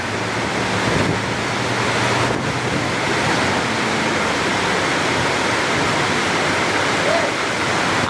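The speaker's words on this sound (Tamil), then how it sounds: "வண்டி கழுவுறோம்" Water sprays steadily while a tractor is washed, a dense, loud, unbroken hiss lasting the whole stretch with only slight dips, and no clear voices over it.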